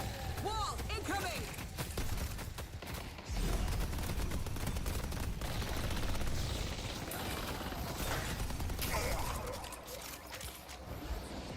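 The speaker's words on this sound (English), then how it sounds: "turrets are actually doing work in this" Automated turrets fire in a video game, a dense, continuous barrage of rapid gunfire and bursts close up, layered with other battle effects and voices talking throughout.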